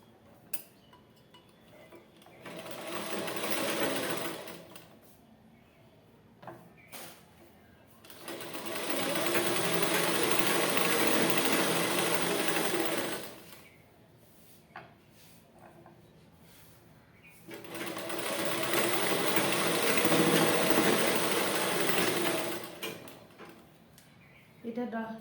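Sewing machine stitching a double-folded seam on a ladies' dress, three long bursts of rapid rattling stitching separated by quiet pauses with small clicks and handling noises.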